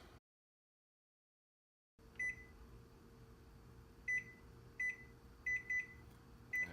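Short high electronic beeps sound several times, in a pair and then a quick run of three, over a steady appliance hum after a moment of silence.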